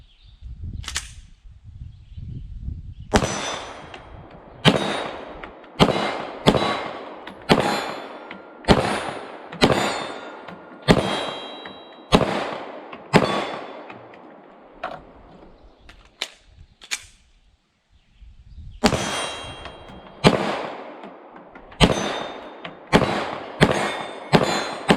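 A SAR9 SOCOM pistol fires repeated sharp shots at steel targets from about 15 yards, each crack followed by a ringing metallic hit, in two strings of rapid, evenly spaced shots with a short pause between.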